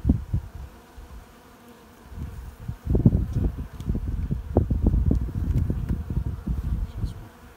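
Dense, droning buzz of many honeybees close by at an open hive, swelling louder partway through and staying busy with rough, wavering low tones.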